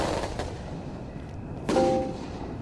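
Two sharp gunshot cracks in GTA, one near the start and a louder one past the midpoint, with a faint background hum and no talking.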